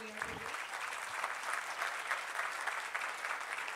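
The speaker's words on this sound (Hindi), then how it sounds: "एक बार जोरदार तालियां सोम भैया के लिए" Sustained, even applause fills a workshop hall in Nagpur for speaker Som Tyagi, many hands clapping steadily at moderate volume from start to finish, with a brief low voice heard at the very beginning.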